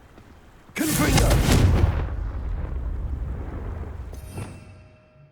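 A Confringo spell blast in the Hogwarts Legacy video game, a sudden loud booming explosion that erupts and rumbles before slowly decaying, with a brief sharper crackle near the end.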